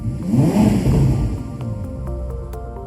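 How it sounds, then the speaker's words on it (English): A 2021 Ferrari SF90 Spider engine rises in a loud, close rev that swells and then eases back into a steady idling hum, with no voices over it. "This connection starts as soon as you sit in the car and start the engine."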